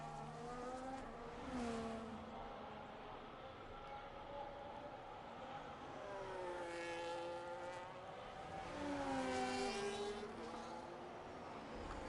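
F1 race car engine on a reverse Austria circuit in a racing video game, a high revving whine rising and falling through gear changes and corners over a long lap, with commentary underneath.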